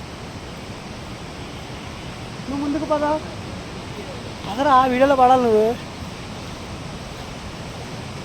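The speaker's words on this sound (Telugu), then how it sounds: "వాటర్ ఫాల్స్ వచ్చింది" The Tarabu waterfall gives a constant broad rushing roar throughout, while someone speaks over it twice in the middle.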